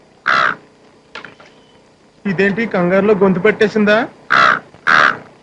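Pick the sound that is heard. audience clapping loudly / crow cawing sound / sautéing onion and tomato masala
crow cawing sound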